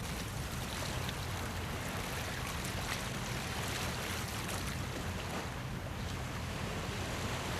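Steady moderate to fresh wind and sea noise aboard a sailing yacht, a constant broadband rush of wind and water that stays continuous and fairly loud throughout, with no voices.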